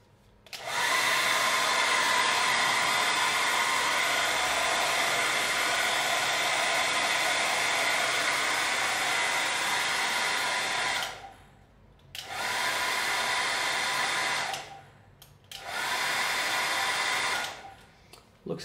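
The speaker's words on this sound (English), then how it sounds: "Now I'm going to connect a very heavy load, a hairdryer on high." A hair dryer on its high setting runs from an Oukitel 2000-watt LiFePO4 power station, a loud steady broadband whoosh that cuts out twice near the end and comes back each time.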